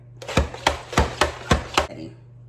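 Mandoline slicer cutting cucumbers in a kitchen demonstration: six crisp, evenly spaced slicing strokes in quick rhythm, close and fairly loud, over a steady low hum, then quiet.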